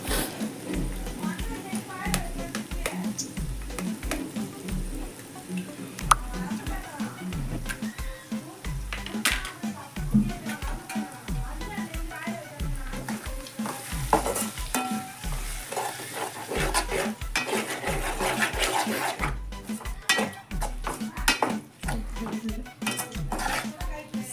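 Eggs go into cabbage frying in a pan while chapati noodles are being made, giving a continuous sizzle with repeated scraping stirs and metal utensil clinks throughout. A voice talks steadily over the cooking.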